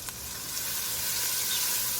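Mushrooms and pancetta sizzle in a frying pan with a steady, dense hiss and crackle, close and continuous throughout.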